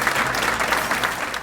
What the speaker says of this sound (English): So if you can give them a round of applause